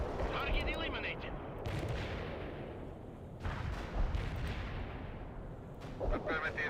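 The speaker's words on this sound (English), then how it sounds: "Anti-tank strike is inbound." Explosive artillery and anti-tank strike impacts in the modern war strategy game World in Conflict, with booming blasts and dense rumbling gunfire at a steady, loud level and a few sharper bursts, a voice faintly present in the mix.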